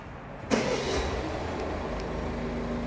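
A Peugeot 3008 car engine running at idle, a steady low rumble that swells briefly as it turns over, then holds an even, moderately loud hum.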